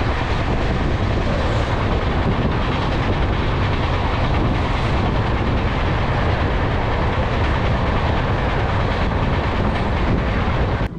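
Gondwana Express rolling past on the down line, a loud, steady, close rumble of rail wagons with faint clickety-clack throughout, no voices.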